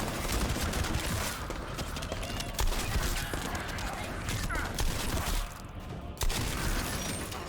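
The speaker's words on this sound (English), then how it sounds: "The shotgun's a little bit slow to fire. But does a lot of damage." Shotgun fire and combat noise in The First Descendant, a busy, steady din of shots with a few louder blasts standing out, spaced a second or more apart.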